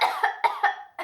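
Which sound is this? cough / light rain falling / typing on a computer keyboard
cough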